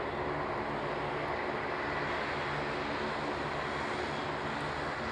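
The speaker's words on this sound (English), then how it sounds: "With this Spartan aircraft, the way they throw this around is incredible." A Spartan aircraft performs a flying display at the Royal International Air Tattoo, its engine producing a steady, sustained drone at moderate distance with no talking.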